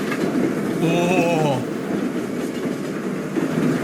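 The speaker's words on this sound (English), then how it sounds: "It's the train." A train rumbles past in a Westworld episode, a steady low rolling roar with a brief higher screech near the start, heard under a short exclamation.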